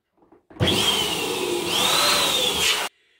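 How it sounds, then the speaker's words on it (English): An inner 11-inch balloon is pumped up inside another balloon while building a jellyfish balloon animal: a steady, fairly loud whooshing rush of air lasting a little over two seconds, with a faint rising squeak in it. "then we can inflate the inner 11 inch some more."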